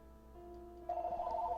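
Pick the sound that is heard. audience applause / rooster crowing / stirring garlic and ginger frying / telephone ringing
telephone ringing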